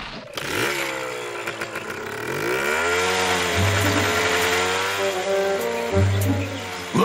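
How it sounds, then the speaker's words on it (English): A cartoon chainsaw motor whines loudly and steadily, pitch sweeping upward as it revs, with a few brief bursts of higher revving. "My new chainsaw makes the job so much easier"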